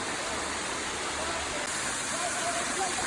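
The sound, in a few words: Rincon Waterfall rushing water, Trinidad and Tobago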